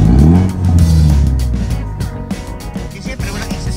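A Ford Mustang engine with no exhaust fitted revs loud, rough and raw close by. It starts as a deep roar, then settles into choppy bursts as the throttle rises and falls.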